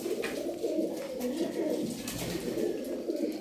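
Pigeons in a breeder's loft of imported Teddy pigeons from Muscat coo continuously, a dense low rolling murmur of several birds close by, steady throughout without pauses.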